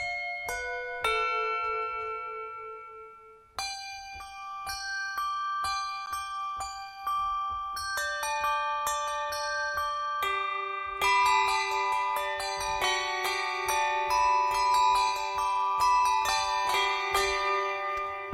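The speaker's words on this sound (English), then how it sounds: "Handbells." Sampled handbells from the Abacus library by Orchestral Tools play a bright, ringing melody, single struck tones at first, then denser overlapping chimes with long sustains, clear and close with no talking.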